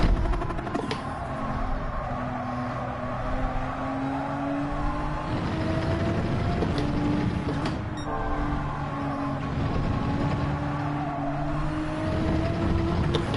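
A race car in the video game Gran Turismo 7 accelerates, its engine whine rising and dropping as it shifts up through second and third gear, steady and continuous with no talking.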